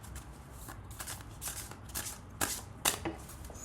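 Tarot cards are shuffled and handled close up, a run of quick papery riffles and soft slaps repeating in bursts, quiet and alone without talk.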